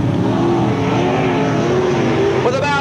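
Sprint cars racing at Parramatta City Raceway in 1985 roar continuously, engine drone steady and loud with a rising rev near the end, likely under a commentator's voice.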